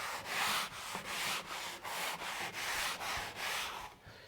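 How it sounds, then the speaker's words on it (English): Hand sanding of a butcher block wood countertop with a 220 grit sponge pad, about nine steady rhythmic back-and-forth rasping strokes, close and loud, with no talk. "Now I'm going to go to like a 200 grit, 220 grit, and this is actually on a sponge pad."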